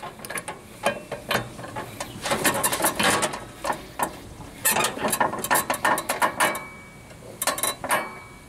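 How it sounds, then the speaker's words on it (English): A torque wrench ratchets as it tightens the blade nut on a Troy-Bilt Pony riding mower, making bursts of rapid metallic clicks in several separate strokes, near and fairly crisp, with no voices. "I'm going to use my torque wrench to tighten this nut back up"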